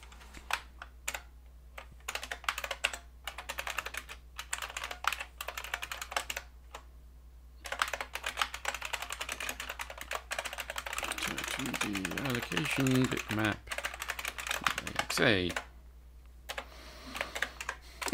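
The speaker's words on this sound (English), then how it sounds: "I have acquired a new clicky keyboard that is even clickier" Clicky computer keyboard being typed on in rapid, uneven bursts of sharp clicks through most of the stretch, with a brief pause and a short spoken interjection near the end.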